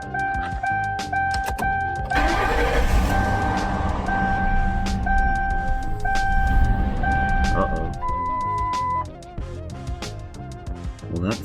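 A Ford Crown Victoria engine fitted with a Honda Civic air intake starts and runs, a close, loud rumbling idle, with beeping tones sounding over it and voices talking in between.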